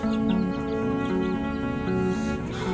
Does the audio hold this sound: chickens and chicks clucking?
yes